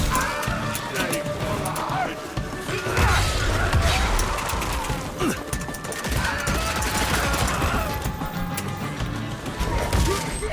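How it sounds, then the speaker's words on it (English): Revolver shots in the Old West action game Evil West crack over a busy combat mix, fanned bursts of rapid shots alternating with single shots, with someone talking over the action. "At the moment, I'm alternating between the holding for the fanning shot and then single shots"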